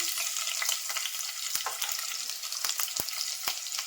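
Mustard seeds and green chillies sizzling in hot oil, a loud continuous hiss broken by sharp crackling pops from the spluttering seeds, heard up close without speech.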